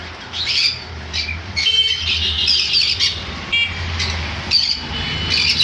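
Red sun conure parrots give repeated sharp, loud, close squawks in irregular bursts over a low background rumble of passing traffic.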